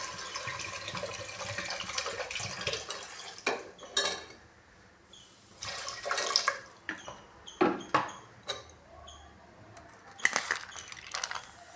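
Water runs into a pot of washed lentils for sambar in a home kitchen, with bursts of pouring and splashing broken up by metallic clinks of the pot and utensils, close and fairly loud.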